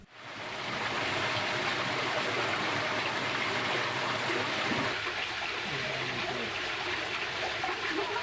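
Fountains splash inside the grotto chamber at Stourhead in Wiltshire, a continuous even rush and trickle of falling water that fills the enclosed stone space, steady and moderately loud throughout.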